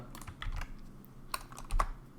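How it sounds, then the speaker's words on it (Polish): Computer keyboard typing in a terminal, with a few light keystrokes and then a firmer press of the Enter key near the end, close and fairly quiet. "Klikam Enter."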